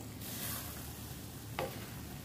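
Egg and green onion frying in a pan while being stirred, a soft steady sizzle with a brief scrape of the utensil partway through, close and quiet with no talking.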